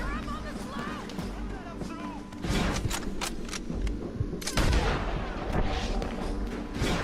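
Gunfire in the Red Dead Redemption 2 mission A Quick Favour for an Old Friend: several sharp, loud shots crack one after another over a background rumble of game ambience, with a heavier burst near the middle.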